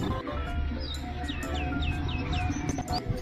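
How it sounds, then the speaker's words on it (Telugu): Birds chirp near a village pond full of cranes, a series of quick, rising-then-falling tweets repeating at a steady pace over a low, continuous outdoor background hum. "లైట్ గా పక్షుల అరుపులు, దూరంగా గుడిలో పాటలు, ఎదురుగా చెరువు నిండా కొంగలు."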